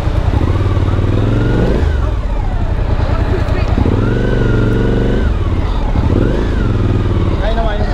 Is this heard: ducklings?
no